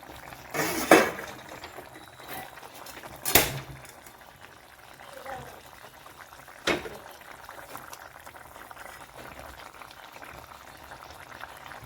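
Fish curry simmers in a pot, a steady bubbling boil throughout with a few sharp clinks standing out above it.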